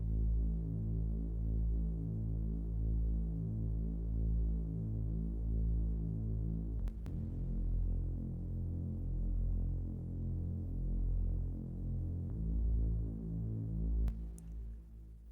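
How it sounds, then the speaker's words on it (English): A thick, low, throbbing synth pad with slow wavering detune and a reverberant wash, sustained and alone, briefly interrupted by a couple of clicks. "it really creates a nice thick sub pad sound"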